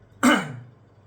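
A single sharp, close throat-clearing cough bursts out loudly, then fades quickly into quiet, with no talking.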